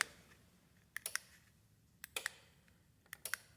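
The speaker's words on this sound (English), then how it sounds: "That's that relay." A relay in a DIY remote control killswitch for an ATV, heard as three pairs of sharp, close mechanical clicks spaced about a second apart against a quiet background.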